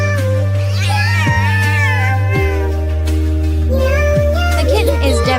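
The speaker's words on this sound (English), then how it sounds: "The mother cat scolds for neglecting its chores." A mother cat meows insistently as she scolds her kitten, several drawn-out, wavering meows close up and loud, laid over a steady low drone of background music.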